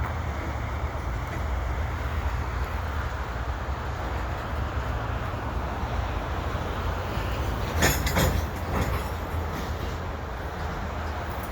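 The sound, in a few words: freight train moving past Lachine EXO station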